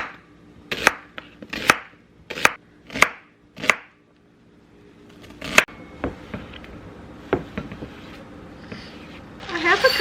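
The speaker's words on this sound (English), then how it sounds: "I need 1 onion chopped." An onion is chopped on a cutting board with a knife: about eight crisp, close chops in a loose rhythm, then quieter scattered taps and scraping, with brief rustling at the end.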